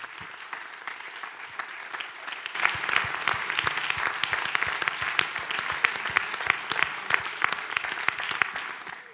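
An audience at the CREUF 2022 critical care training conference applauds for about nine seconds, a dense and steady clapping that swells a little partway through.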